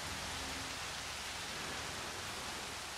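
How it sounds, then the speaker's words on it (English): Steady rain falls across a dinosaur park in the video game Jurassic World Evolution, a constant broad hiss at low volume with no breaks and no voices. "It's raining."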